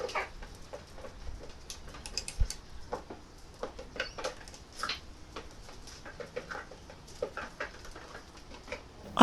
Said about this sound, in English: As the rice begins to run low, the pace slows and the chickens settle.